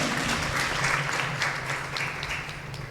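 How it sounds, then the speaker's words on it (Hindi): An audience gives steady applause for women trainees of a sewing course, a continuous crowd clapping of moderate loudness over a low hum. "एक बार इन महिलाओं के लिए भी जोरदार तालियां होंगे"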